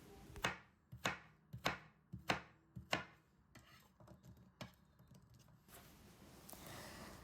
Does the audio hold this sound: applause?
no